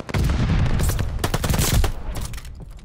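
Rapid automatic gunfire rattles around a hardpoint in a Call of Duty Vanguard multiplayer match, a dense burst of close, loud shots fading slightly toward the end.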